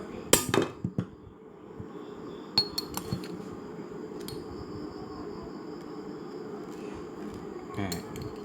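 Fried chicken tendons are tossed with pepper and white sesame seasoning in a bowl, giving a few clinks and scrapes at the start and scattered taps later over a faint fan-like hum.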